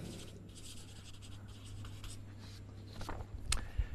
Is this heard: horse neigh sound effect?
no